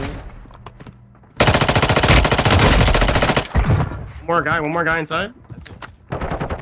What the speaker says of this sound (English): I'm shooting a guy directly in his back, and half my shots are going through him.